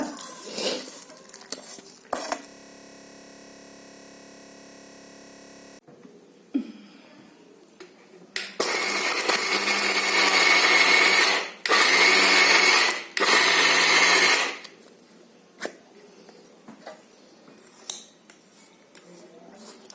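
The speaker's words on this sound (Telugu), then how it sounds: "అవి మొత్తం అంతా వేసేయండి వేసేసి చక్కగా మిక్సీ పట్టేసుకోవటమే" A kitchen mixer grinder grinds roasted sesame seeds into powder in loud, harsh whirring bursts of a few seconds each, separated by short pauses, with quieter clattering and handling noises before and after.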